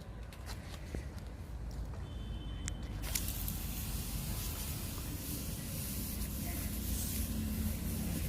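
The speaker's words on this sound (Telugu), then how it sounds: "కింద నుంచి స్ప్రే చేస్తున్నాను." A steady, close hiss from a spray bottle misting a homemade mealybug remedy onto a hibiscus plant runs continuously, louder after the first few seconds, with faint rustling and handling noise beneath.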